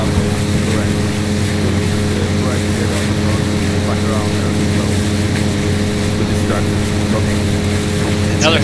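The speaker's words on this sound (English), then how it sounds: "I hear the helicopter getting closer" A helicopter in the Arma III video game gives off a continuous, loud rotor and engine drone with a steady pitch that holds for several seconds as it draws nearer.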